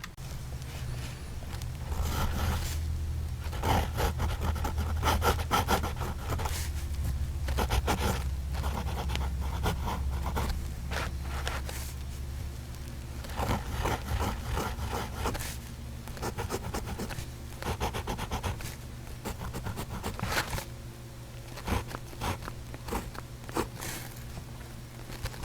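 A Sheaffer fountain pen scratches across paper in continuous close strokes with brief pauses. A steady low hum sits underneath the writing.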